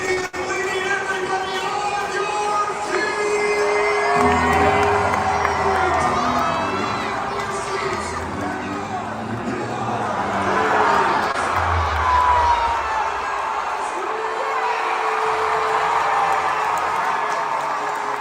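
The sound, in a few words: kids and stadium crowd cheering Savannah Bananas walk-off win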